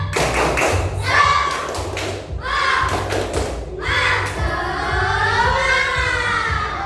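Fifth-grade class in an Indonesian Pancasila lesson performing the tepuk semangat rhythmic clapping chant, loud patterned bursts of claps with children's voices chanting along between them, close and energetic.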